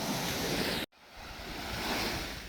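Sea waves washing against a rocky shore along a coastal walk, a steady loud surging rush of surf with wind buffeting, cut by a brief silence before the wash builds again.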